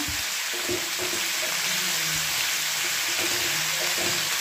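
Steady, loud hissing sizzle as cauliflower goes into a hot frying pan for a Bengali vegetable curry, with soft bumps and scrapes of stirring underneath.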